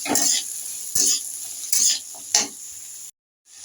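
Potatoes sizzle in a pan for paneer with vegetables, with several bursts of stirring and scraping over a steady hiss, then a brief silence near the end.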